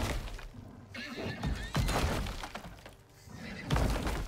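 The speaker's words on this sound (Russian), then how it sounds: "Ну да, лошадь сутулая здесь." A horse in the survival video game Icarus neighs and snorts amid loud crashing and breaking game noise, the sounds dense and overlapping through the whole stretch.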